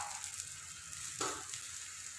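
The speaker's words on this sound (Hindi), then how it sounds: "लो फ्लेम पे पकाना है इसको" Rice paratha cooking on a tava griddle over a low flame, a soft steady sizzle with a brief louder crackle, faint and with no talk.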